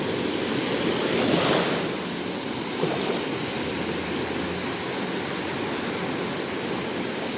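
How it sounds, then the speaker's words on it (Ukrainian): Sea waves wash onto a beach in Albania under a cloudy sky, a loud continuous roar of surf with one swell peaking early and then a steady rushing wash, and no voices. "оце хвилі"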